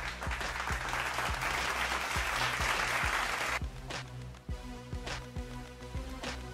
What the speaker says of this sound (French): On applaudit la team graphique